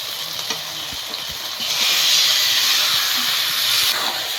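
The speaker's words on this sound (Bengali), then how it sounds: "এবারে একটু লেড়ে চেড়ে সম্পূর্ণ মশলার সঙ্গে একটু মিশিয়ে দেবো" Lota fish with spices in a hot pan, sizzling and hissing loudly and close, swelling into a strong steamy hiss midway while a few soft stirring scrapes sound underneath.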